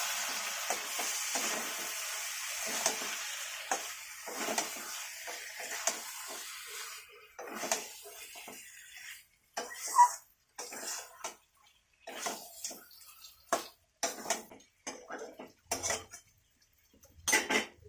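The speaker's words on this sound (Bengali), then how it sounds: "এবার একটু নেড়ে দিই।" A rohu fish head curry is stirred in a pot, with quiet, irregular clinks and scrapes of a utensil against metal and a faint bubbling hiss, separated by short pauses.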